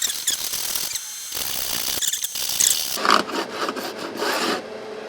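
Metal file rasping across sharp fret ends on an Affinity Telecaster guitar neck, several close, scratchy back-and-forth strokes with brief pauses between passes.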